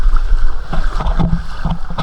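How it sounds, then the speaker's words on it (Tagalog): Strong waves slap and churn around a boat off El Nido, Palawan, with close, loud splashes and rushing water mixed with wind buffeting the microphone. "Ayan mo, sobrang lakas ng alon."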